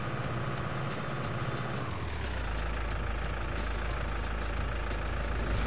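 A tractor engine in Landwirtschafts-Simulator 19 on an alpine farm runs steadily, a deep low rumble that thickens into a heavier, constant drone partway through and holds there, loud and near.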